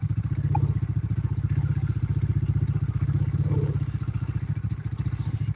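A KTM motorcycle engine idles steadily nearby, with a fast, even, throbbing pulse and a light mechanical clatter running on its own the whole time.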